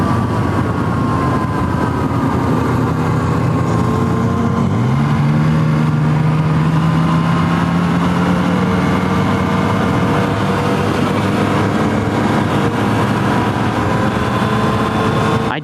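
A 2017 Yamaha FZ09 motorcycle with its stock exhaust, loud engine drone rising in pitch through a gear as it pulls hard, heard close and steady with wind rush underneath.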